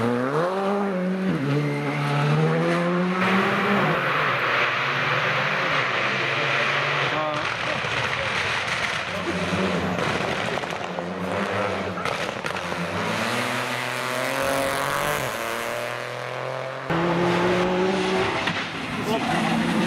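Rally cars at Rally Šumava Klatovy 2023, engines revving hard and shifting through gears with rising and falling whines, tyres scrabbling over gravel, loud and continuous with brief gaps between runs.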